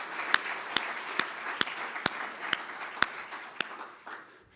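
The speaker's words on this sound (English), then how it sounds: "So let's give Andy a round of applause for the great work he's doing." Applause from an audience at a hotel ownership conference, a sparse scattering of distinct claps standing out over a soft wash of crowd clapping, easing off toward the end.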